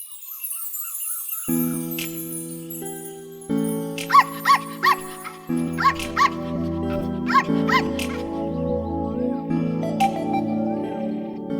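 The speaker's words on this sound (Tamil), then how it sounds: "அந்த நாய், அந்த குட்டி நாய் தானே, வளர்ந்துருச்சு, பெருசாயிடுச்சு" A dog in a Tamil film scene gives a series of short, sharp barks over a sustained musical score, with jingling above; the barks come in a quick cluster midway and a single one near the end.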